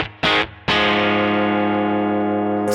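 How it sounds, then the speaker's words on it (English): Electric guitar through a distortion effect pedal: two short chord stabs, then a loud sustained distorted chord ringing out and slowly decaying, no talking. "Distortion."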